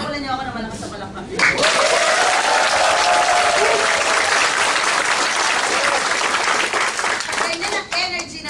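An orientation crowd bursts into loud, dense applause after a short stretch of talk, the clapping holding strong and even for several seconds with a few voices mixed in before it starts to thin.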